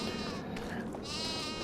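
Sheep on a farm in the game Farming Simulator 25 give a long, loud, wavering bleat that fills the whole moment, heard close and alone without talk.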